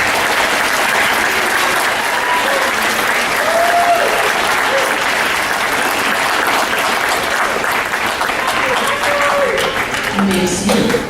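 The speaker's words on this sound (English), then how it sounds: "Please give them a round of applause." Sustained audience applause for student musicians at a junior high spring concert, thick continuous clapping filling the room, loud and even with a few faint voices mixed in.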